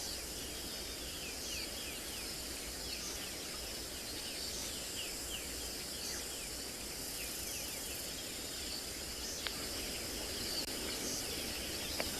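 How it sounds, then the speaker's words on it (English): Morning bush ambience at a South African safari site: a steady wash of crickets and insects fills the air with a few distant bird calls scattered through, quiet and continuous with no voices. "now it's just a few birds and crickets"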